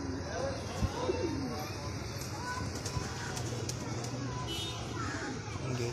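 Male pigeons court a hen with soft, repeated cooing in a loft, set against a steady background hum and distant chatter.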